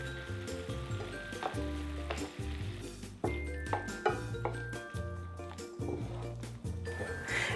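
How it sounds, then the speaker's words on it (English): A gravy of hoisin sauce, orange juice, cinnamon stick, cloves and bay leaves sizzles and bubbles steadily in a pan, with intermittent clinks and knocks of utensils against cookware throughout. "We're going to let the gravy simmer for about 2 more minutes"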